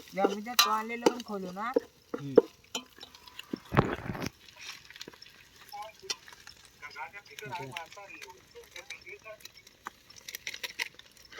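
Leftover spices being stirred into marinated chicken in a pan, soft scraping and wet stirring sounds, irregular and fairly quiet, while a person talks over much of it.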